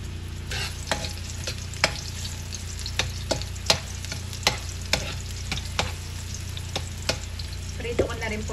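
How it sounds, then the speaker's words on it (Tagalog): Garlic and onion crackle in hot cooking oil, a steady, gentle sizzle punctuated by regular clacks of a spatula stirring against the pan. "Lalagay ko na po itong ating bawang at sibuyas."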